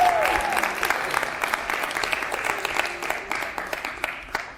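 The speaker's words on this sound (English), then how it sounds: "Keep clapping." Audience applause at a TEDx talk, steady dense clapping from a large crowd continuing for several seconds with individual claps standing out, fairly even in loudness and without talk.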